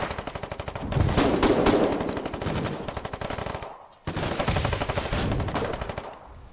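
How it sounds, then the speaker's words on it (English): Automatic gunfire in the war game Foxhole, rapid, loud, evenly spaced shots in two long bursts separated by a brief pause, close and unobscured by talk. "I immediately have to change my mode to automatic fire and try to kill him with whatever else I have."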